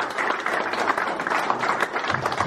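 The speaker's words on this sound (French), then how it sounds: "Là, un applaudissement quand même." A small audience at a Paris book launch claps briefly, a dense, fairly even patter of hands lasting a couple of seconds.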